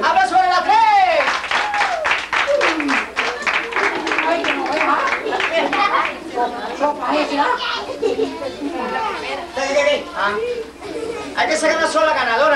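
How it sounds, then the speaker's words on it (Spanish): A crowd applauds a contestant at a small-town competition in San Calixto, with clapping mixed with children's shouts and lively chatter, loud and close throughout. "¡Aplauso para la tres!"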